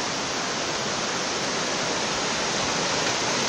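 Continuous roar of a waterfall tumbling into a natural river bathing pool at the Balneário Cristalino resort in Mato Grosso, a dense, steady broadband rush heard up close with no pauses or voices.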